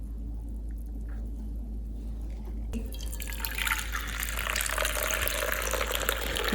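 South Indian filter coffee is mixed by pouring it back and forth between vessels, giving a steady liquid splashing and dripping that swells into a louder, fuller pour partway through, with no talking.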